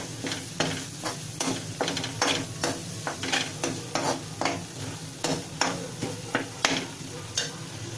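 Ingredients brown in ghee in a pan, with a constant close sizzle and regular sharp scraping strokes of a spoon stirring throughout.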